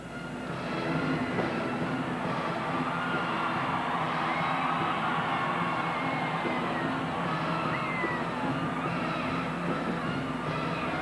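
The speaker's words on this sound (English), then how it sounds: "The crowd buzzing here." Basketball arena crowd at a UNLV versus UC Irvine game, a steady loud buzz of many voices that holds at one level throughout with no single voice standing out.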